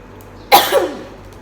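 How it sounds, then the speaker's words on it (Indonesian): A single sharp cough bursts out close to the microphone, then trails off quickly into quiet. "Aduh, batuk ini benar-benar gak baik banget ya."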